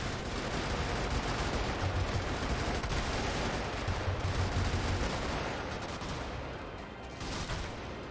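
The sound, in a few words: burst-fire rifle shooting in the video game Brigador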